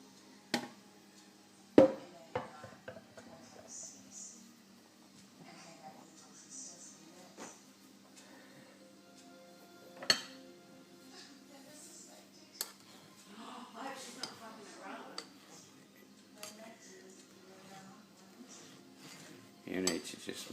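Beef stock worked through a fine strainer, quiet clinks and scrapes of utensils against metal with a few sharp knocks and soft liquid movement, under intermittent speech.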